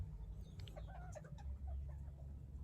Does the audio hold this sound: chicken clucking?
yes